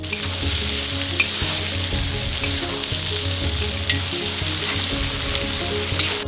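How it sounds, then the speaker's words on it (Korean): Carrots stir-frying in a cauldron for Uzbek pilaf, a loud, steady sizzle with repeated scraping and stirring clatter, close and continuous without any voices. "당근을 투하하세요. 2분간 더 볶아주세요."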